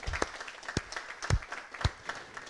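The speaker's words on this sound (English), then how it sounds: "So big round of applause." Sparse, faint applause from a small group, a handful of distinct claps with quiet gaps between them rather than a full ovation.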